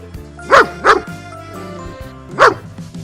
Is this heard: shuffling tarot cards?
no